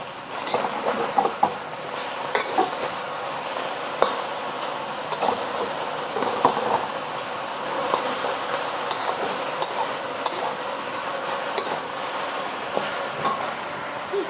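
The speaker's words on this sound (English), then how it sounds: "Let it sear on one side before moving it around." Beef sears in hot oil in a pan during a ginger onion stir fry, a steady hissing sizzle dotted with small pops and clicks.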